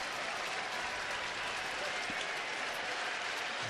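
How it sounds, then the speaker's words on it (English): Crowd at a baseball game between Detroit and Cleveland, applauding and cheering as a dense, steady wash of claps and voices that holds at moderate, even loudness throughout. "The crowd's starting to get into it a little bit now"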